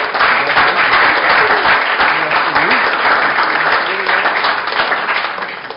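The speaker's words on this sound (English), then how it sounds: "Round of applause." A room full of people at a Belleville city council meeting breaks into a loud, steady round of applause that holds for several seconds and fades slightly at the end, with a few voices murmuring underneath.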